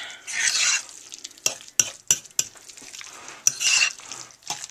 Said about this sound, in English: And now we're going to mix that in nice.